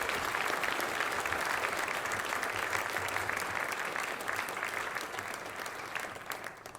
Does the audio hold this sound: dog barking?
no